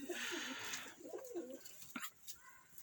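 Pigeons in a loft give soft, faint cooing calls in short phrases over a quiet hiss of background noise.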